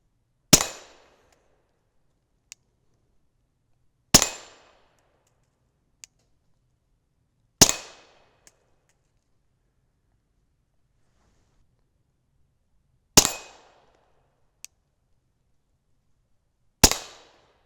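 Five sharp, suppressed Glock 19 pistol shots through an Omega 36M suppressor, spaced a few seconds apart, each a crisp crack with a short decay, with faint light clicks between some shots.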